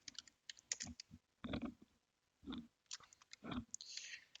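Quiet, irregular clicks of keys on a computer keyboard as a message is typed, coming in short clustered bursts with brief pauses, close and faint.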